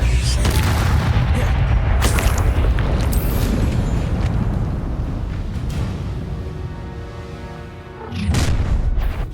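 A Bombarda blast spell from the Hogwarts Legacy video game, a loud sustained booming explosion with rumbling debris that fades, then a second heavy boom near the end.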